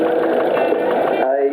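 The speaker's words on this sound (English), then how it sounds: "Magnificent tractor in their day, and they got a lovely sound to them, as you can hear." A Chamberlain Showman 40K tractor, an early Perth-built model with an opposing twin-cylinder engine, runs at a steady idle, its loud, close mechanical throb dropping off abruptly near the end.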